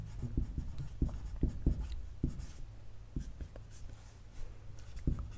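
Pen writing out a math solution on paper, with scratchy strokes and soft taps in irregular bursts, close and quiet.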